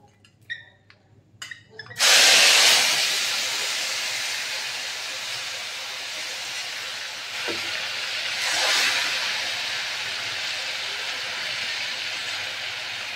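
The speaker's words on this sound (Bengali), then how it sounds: "এবার এর মধ্যে আমি কচুটা আস্তে করে ছেড়ে দেবো" Taro (kochu) drops into hot oil with a dried chilli and erupts into a sudden loud, hissing sizzle after a few light clinks, then settles into a steady close crackle that swells again briefly.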